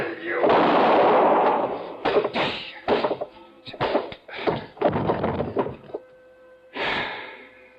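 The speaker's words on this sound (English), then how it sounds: "the sound of the gunshot" A single loud, booming gunshot-like blast rings out near the start, then a voice speaks in short bursts.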